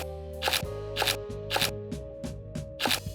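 A knife chops celery on a cutting board in a home kitchen, giving crisp, evenly spaced cuts about every half second over a steady tonal hum.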